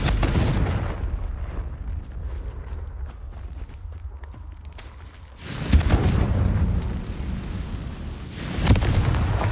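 Confringo blasting spell in Hogwarts Legacy, a booming game explosion over a rumbling low roar, with two sharp heavy blasts about three seconds apart toward the end.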